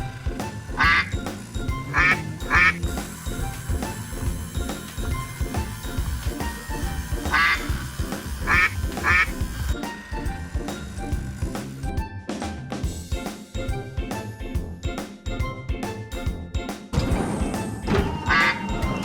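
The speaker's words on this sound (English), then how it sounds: "Duck." Duck quacking in repeated clusters of short nasal calls over steady background music, loud and close, with a few pauses between groups of quacks.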